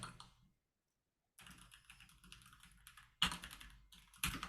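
Close, quiet typing on a computer keyboard comes in rapid clicking bursts, with a short silent pause early on and a louder flurry of keystrokes near the end.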